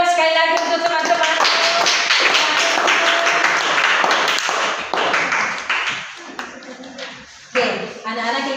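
A classroom of students claps for their classmates in a lesson, with sharp, close hand claps in the first half while voices call out over them. The clapping thins and fades toward the end.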